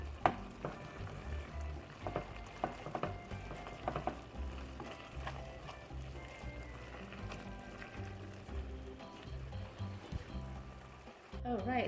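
Spicy Bicol laing being stirred in coconut milk in a pan, with a steady sizzle and gentle scraping of the spoon throughout, close and moderately loud, under a voice talking.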